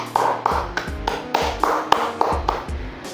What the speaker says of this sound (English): Give applause to all of you.